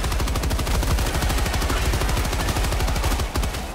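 Sustained rapid machine-gun fire in the video game Helldivers II, a dense, loud, continuous rattle of shots running the whole stretch with no pauses.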